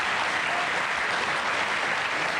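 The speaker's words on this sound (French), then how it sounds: "Mais on peut l'applaudir" Studio audience applause on a French television show, a loud, continuous roar of many hands clapping that stays even and dense from start to finish.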